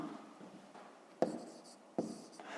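Pen writing out a fifth-grade math answer: soft scratching strokes with two sharper taps as the pen meets the page, quiet and close with no talking.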